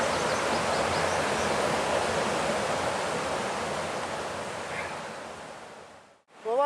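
A waterfall pours over its edge in steady broadband roar close by, with the rushing noise easing slightly near the end before a brief dip.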